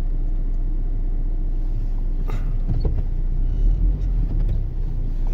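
A hearse drives past near a cemetery with a steady, low road rumble, and a few soft knocks and clatters rise briefly in the middle.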